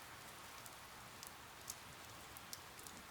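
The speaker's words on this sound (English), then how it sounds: "So we'll go from there to louder rain" Steady rain falls in a rainforest as a dense, even hiss, with scattered louder drops ticking on nearby surfaces and no voices.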